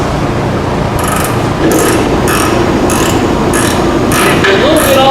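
Close ratchet tightening a lower control arm bolt on a Pontiac G8, a steady series of evenly spaced clicks over a constant loud background hum.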